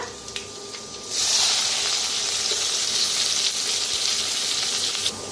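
Asafoetida, chopped onion and curry leaves hit hot oil with a sudden loud sizzle about a second in, then hiss steadily and closely for several seconds before easing slightly at the end.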